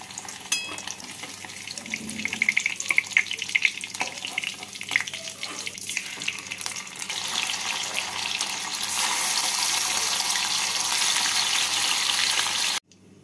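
Paneer cubes frying in oil in a pan, a continuous crackling sizzle mixed with clinks and splashy bubbling that swells louder in the second half before cutting off abruptly near the end.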